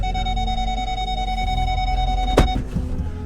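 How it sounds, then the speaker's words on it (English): A car parking sensor sounds a steady electronic warning tone continuously, then cuts off, with a sharp clunk and some rustling noises at the end. "That's a lot of beeping."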